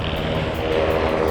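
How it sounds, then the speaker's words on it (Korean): An army helicopter landing beside the Han River near Paldang Bridge to pick up parachute trainees gives a steady, loud rotor and engine roar throughout, with a rhythmic beating pulse and no voices. "저기 헬기 착륙합니다."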